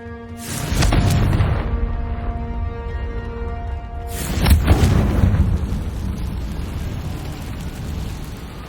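Two fiery Confringo spell blasts from Hogwarts Legacy go off a few seconds apart, each a loud booming burst that trails into a long rumbling decay, with no talking.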